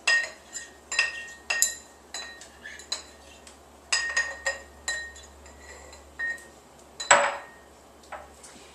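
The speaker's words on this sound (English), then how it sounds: "just muddle it together to really push that mint flavor through" Mint is muddled with simple syrup in a glass, producing a series of close, sharp clinks and knocks against the glass in an irregular rhythm with short pauses, plus one louder scrape near the end.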